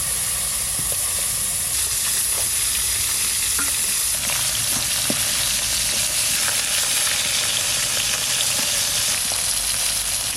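Loud, steady frying of snakehead and koi fish in a pan of oil: a dense, unbroken hiss and sizzle, close up, with scattered small pops throughout.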